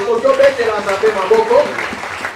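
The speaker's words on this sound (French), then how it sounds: "Est-ce qu'on peut acclamer la parole de Dieu?" A church congregation at Sunday worship claps and cheers for the word of God, a steady burst of applause mixed with voices and shouts.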